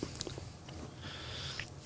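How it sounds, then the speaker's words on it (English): A person chews food right at the microphone, giving close, wet mouth clicks and soft crunches over a low background murmur. "I can hear myself chew in the microphone."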